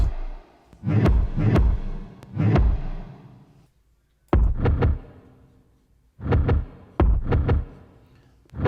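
Punchy low drum hits in short clusters, a reversed low kick pitched up an octave layered with a kick, each with a bright swelling attack before the thump, repeating in a loose pattern with gaps between groups.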